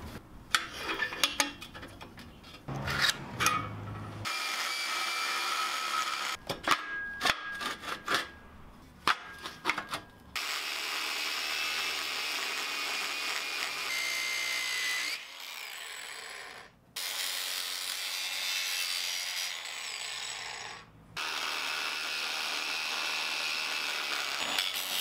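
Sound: notching a hinge into a rocket stove tube

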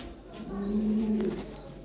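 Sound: Lahore siraji pigeons

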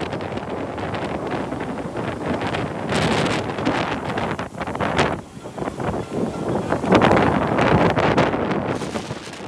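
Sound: storm wind at the beach in Kiel-Schilksee

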